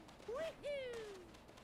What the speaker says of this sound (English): Let me see if I can get this bird